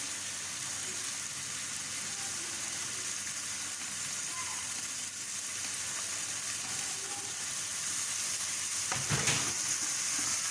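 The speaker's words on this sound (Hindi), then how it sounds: "इसको थोड़ा सा फ्राई करें" Onion, ginger and tomato fry in a pan for vegetable samosa filling, a continuous close sizzle with occasional stirring clinks and a brief louder scrape toward the end.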